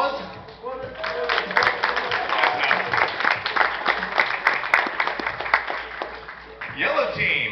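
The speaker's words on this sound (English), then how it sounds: "Round of applause." Steady applause from a small crowd at a fursuit games event, many hands clapping together for several seconds, fading slightly near the end.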